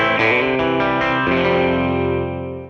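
Electric guitar with single-coil pickups runs through a Catalinbread Mini Epoch Boost pedal, strumming a few quick chords then letting a bright, full chord ring out and slowly decay, close and clear.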